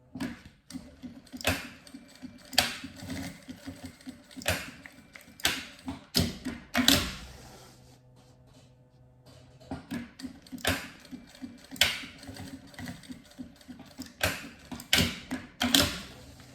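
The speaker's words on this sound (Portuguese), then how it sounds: "fiz a costura nas duas pontas com o pé de máquina" A sewing machine stitches across both ends of a fabric bag strap for a notebook bag in quick ticking bursts of needle strokes, pausing briefly in the middle before resuming, close and fairly quiet.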